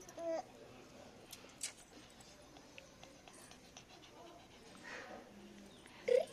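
A pet dog whimpers and pants softly at close range, with a few short squeaky whines standing out against a quiet room background.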